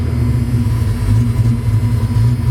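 A 1986 Ford Mustang GT with a freshly rebuilt 302 V8 bored to 306 idles steadily, a loud, close, low rumbling drone with no voices over it.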